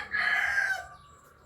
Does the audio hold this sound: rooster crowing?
yes